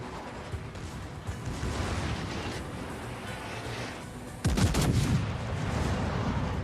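Battleship gunfire booms in World of Warships as an enemy Georgia opens fire: a rumbling, continuous bed of distant cannon and engine noise, then a sudden loud blast with a sharp crack around the middle.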